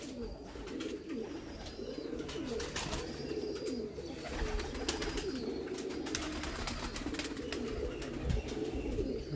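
Teddy pigeons of the Tony breed at a breeder's loft in Sialkot coo steadily and close by, layered calls overlapping in a continuous soft rumble over faint background chirps.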